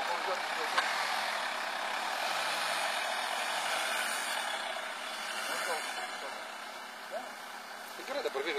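An off-road vehicle's engine hums steadily while driving, moderately loud, with people talking over it.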